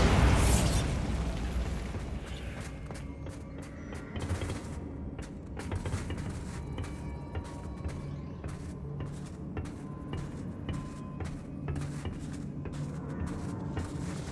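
A Bombarda spell detonates in Hogwarts Legacy, opening with a loud blast, then a long scatter of sharp cracks, pops and debris clatter that slowly fades.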